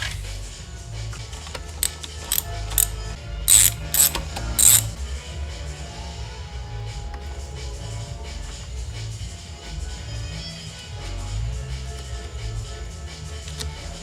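A ratchet tightens bolts during a recirculation part replacement on a Mercedes C230, giving a few quick clicking bursts early on over a steady low hum.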